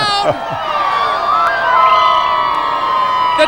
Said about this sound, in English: the crowd is starting to build there in Province House